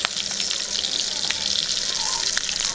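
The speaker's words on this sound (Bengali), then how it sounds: "হালকা আঁচে ভেজে নিচ্ছি, বেশি আঁচে ভাজলে পুড়ে যেতে পারে।" Potato and egg kababs fry gently over low heat, making a steady, soft sizzling hiss throughout with faint bubbling and an occasional light crackle, close by and without talk.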